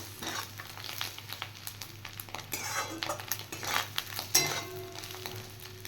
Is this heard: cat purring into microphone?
no